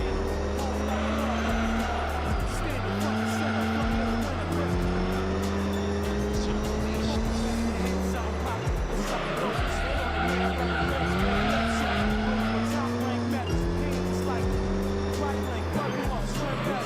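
Race car engine in Gran Turismo 3 drones steadily through repeated gear shifts, with long tire squeals and skids running over it the whole time.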